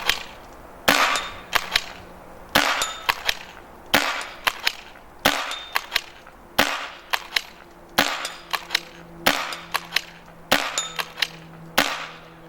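A Tippmann SL-68 II pump-action paintball marker fires a steady string of sharp, snappy shots, roughly one or two per second, each followed by a brief pump clack, close and clear with no talking.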